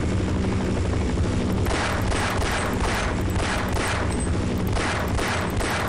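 A helicopter armed with missiles in Half-Life 1 gives a loud, steady rotor thump with a rhythmic chopping pulse, continuous and close throughout.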